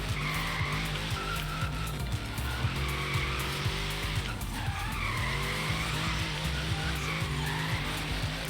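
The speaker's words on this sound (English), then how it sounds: "Let's get a nice solid drift through downtown" A Liberty Walk Hellcat drifting through a downtown street in Forza Horizon 3, with loud, sustained tire squeal in long sweeping waves over a roaring engine whose pitch repeatedly climbs and drops through gear changes.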